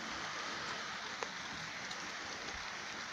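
Steady rain falling on grass, a continuous soft hiss of drops at an even level throughout, with no voices.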